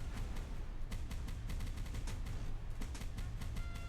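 Mortar fire and gunfire fill a World War II naval combat scene in the video game Boat Crew: rapid, closely spaced bangs and thuds form a continuous, dense barrage at moderate loudness, with no talking.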